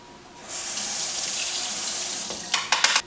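Half a cup of water pours steadily onto sliced apples for an apple crisp, a continuous bright splashing stream lasting a few seconds, ending in a few brief spattering bursts, close by with no talk.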